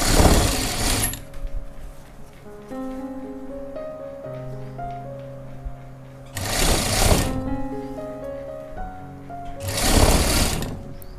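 A sewing machine stitches a kurti jacket, running in three loud, fast-whirring bursts separated by quieter stretches of a humming motor, close by with no talk.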